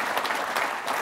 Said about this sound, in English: the entire Wheeler crew, I think, needs a round of applause